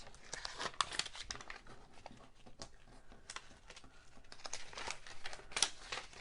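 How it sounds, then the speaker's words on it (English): Paper strips peeled up off a mask during a crafting workshop, crinkling and tearing rustles in irregular close bursts, quiet with no talk. "So now let's peel up all of our papers."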